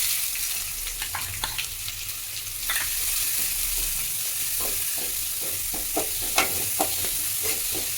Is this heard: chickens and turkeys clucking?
no